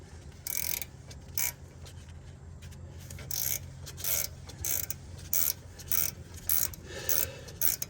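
A ratchet or wrench clicks in short bursts while a wheel stud nut is tightened on a 2012-2015 Honda Civic, with the ratcheting sounds close and intermittent over a low hum.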